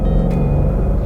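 A 2015 5.0 Mustang GT V8 muscle car rumbles loudly just after being started, a deep, throbbing, close-up idle that stays heavy and steady for a brief moment.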